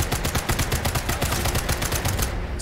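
Rapid automatic gunfire from the video game Sniper Elite 5, a dense, loud burst of repeated shots that runs almost without a break for nearly three seconds before cutting off.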